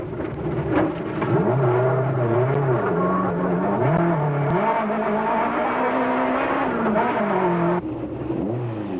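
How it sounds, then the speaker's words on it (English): Nissan Sentra rally car on a gravel stage at the 1992 Volkswagen Algoa Rally, engine loudly revving and wavering in pitch as it slides under throttle, steady close roar throughout with a brief dip near the end. "One small miscalculation between throttle and steering wheel and the Sentra slides into the bank."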